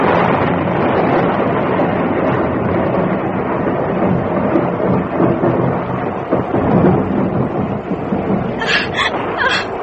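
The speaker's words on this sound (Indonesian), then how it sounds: "Dia hanya melihat air hujan tumpah ruah ke permukaan bumi." Heavy rain pours steadily across the whole stretch, a dense constant roar with faint low rumbles of thunder beneath it, and no voices.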